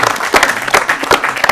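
Studio audience applauding on an Urdu-language quiz show, loud, close, rapid clapping with a steady, uneven patter, and no voices over it.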